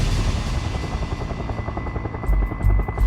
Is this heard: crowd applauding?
no